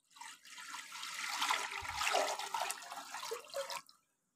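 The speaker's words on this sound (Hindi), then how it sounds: "जी चूल्हे जला दिया और बर्तन रख दिया, डालते हैं पानी।" Water for rice pulao is poured into a cooking pot on a lit stove, a steady, close splashing rush lasting about four seconds and heard alone.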